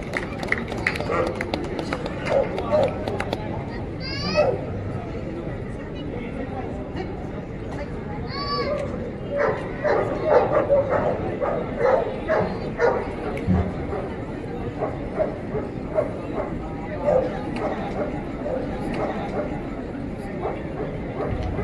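Dogs bark intermittently at an outdoor obedience dog show held by a kennel association in Pandharpur in 2025. The short barks and yips come through busy crowd chatter and talk throughout.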